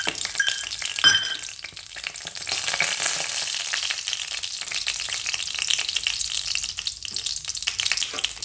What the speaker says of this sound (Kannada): ಸ್ವಲ್ಪ ಬೀಜ ಗರಂ ಗರಂ ಆಗೋ ಹಾಗೆ ಸ್ವಲ್ಪ ಹುರ್ಕೋಬೇಕು